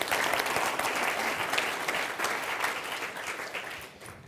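Applause from an audience at a hypnosis training session, a dense steady wash of many hands clapping that holds strong throughout and tapers slightly at the end.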